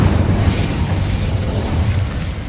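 A fiery blast from the Incendio spell in Hogwarts Legacy roars as a steady, loud rumbling burst that fills the moment without any talking.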